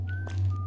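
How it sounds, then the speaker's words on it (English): A short whistle in the first-person fantasy role-playing game Arx Fatalis, a thin, clear tone that holds steady, breaks off, then returns at a lower pitch over a low background hum. "I hear whistling"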